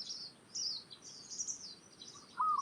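Zebra dove calls come as short, bright chirps and twittering phrases, repeated at irregular intervals, with a lower trilling note near the end, all against a quiet natural background with no voices.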